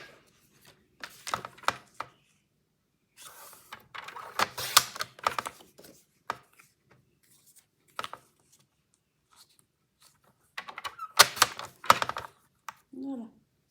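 Paper for a scrapbook craft album page is cut close up. Crisp bursts of cutting come in short clusters separated by quiet pauses, with no talking.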